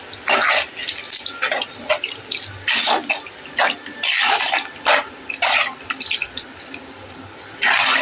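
Water poured into mashed dal for a Tamil kuzhambu splashes and trickles loudly in uneven bursts, close by and alone.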